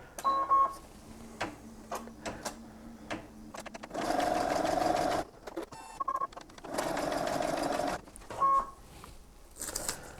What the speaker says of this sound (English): here we are back to the embroidery machine. So all we're going to do is insert this hoop again. And then we'll do the next stitch.